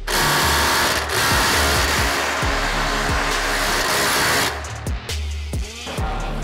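A cordless drill drives a screw into staircase wood, its motor whirring loudly and steadily with harmonic strain, then stuttering in short ratcheting bursts as the clutch slips near the end.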